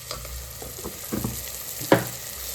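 A Gujarati village-style spice masala for olo rotlo (baingan bharta) sizzles and fries in a pan while being stirred, with soft scraping strokes and a louder clatter near the end, no talking.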